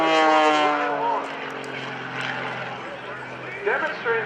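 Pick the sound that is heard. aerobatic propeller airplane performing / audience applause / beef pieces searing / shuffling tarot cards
aerobatic propeller airplane performing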